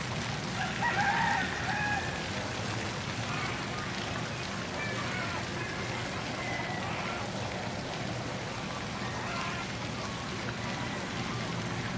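Chickens clucking and a rooster crowing outdoors on Kaua'i, Hawai'i, a fairly distant crow standing out near the start over a steady, noisy outdoor bed with faint scattered calls.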